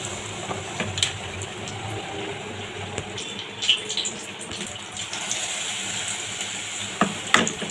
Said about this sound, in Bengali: এই যে এইভাবে করে নিয়ে আমি তেলে ছেড়ে দেবো।